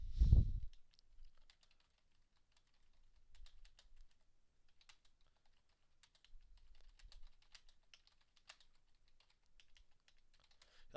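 Quiet clicking of computer keyboard keys in irregular bursts, close but faint, following a brief thump at the start, with no voices.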